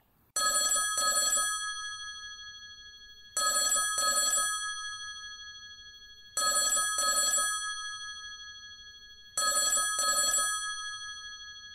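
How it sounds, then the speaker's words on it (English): A telephone ringback on an international call from America to the UK, four evenly spaced double rings, clear and alone against a quiet background. "it's ringing."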